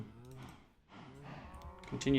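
Cows mooing in Minecraft, a couple of low, drawn-out moos heard faintly and close together, with a brief louder sound at the end.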